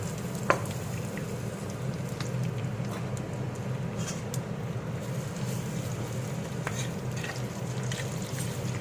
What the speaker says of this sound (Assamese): পিঁয়াজখিনি ৰঙচুৱা হোৱালৈকে মই ভাজি থাকিম।